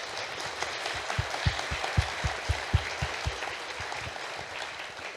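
An audience claps for the debaters on a panel about electricity from biogas, producing a steady dense wash of applause from a full room, with individual claps punching through close by.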